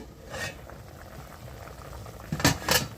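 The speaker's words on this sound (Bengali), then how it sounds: "আমটা প্রায় সেদ্ধ হয়ে গেছে" Raw mango chutney boils in a pot, giving a soft, continuous bubbling that rises into two louder splutters near the end, heard close up and fairly faint.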